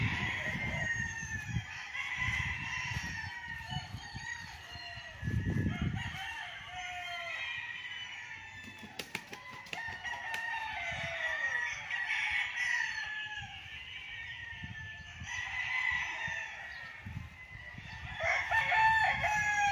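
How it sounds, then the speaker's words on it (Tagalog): Chickens and roosters crow repeatedly on a farm lot in Liliw, Laguna, with clucking fowl and overlapping cock-a-doodle-doos, some near and some farther off, over steady outdoor background noise throughout. "Ganda ng mga manok."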